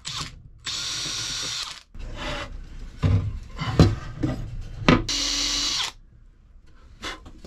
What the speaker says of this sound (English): I'll actually drill this through to make sure I get exactly the right spot